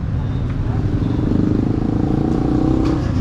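A motorcycle engine running close up with a steady, throbbing rumble and a slight rise in revs, carrying on evenly with a faint clatter and no voices.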